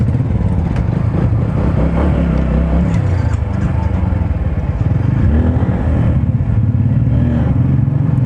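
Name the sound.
motorcycle accelerating, picking up speed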